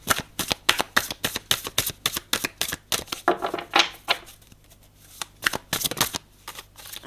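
Tarot cards shuffled by hand at close range, a rapid run of crisp riffling slaps in an uneven rhythm with a brief lull partway through.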